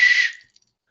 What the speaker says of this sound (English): Like this is a whistle, and it's got a ball inside of it too.